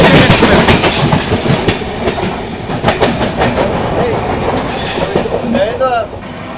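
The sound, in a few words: Paschim Express train passing at speed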